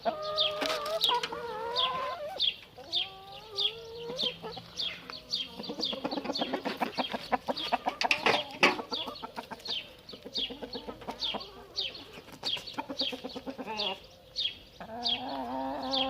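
An Indian rooster and hens cluck close by in repeated short bursts, with occasional louder crowing calls breaking in over the steady chatter of the flock.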